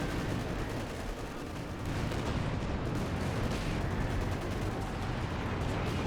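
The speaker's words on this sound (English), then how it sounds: "These two Panthers are receiving a bit of damage from the major artillery" Continuous, dense rumble of artillery and gunfire from a Company of Heroes 2 battle, a steady loud barrage of overlapping blasts with no clear gaps.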